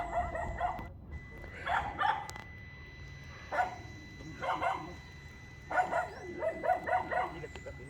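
Several dogs in the Philippines bark in repeated short bursts, moderately close, separated by brief pauses over a low background hum.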